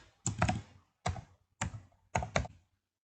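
Python code being typed on a computer keyboard: four short, distinct clusters of close, crisp keystrokes separated by brief silences, with no talking.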